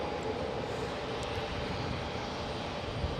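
A fixed-wing airplane on approach to land at San Jose Airport, heard as a steady, broad engine roar at moderate distance, unbroken throughout with no voices.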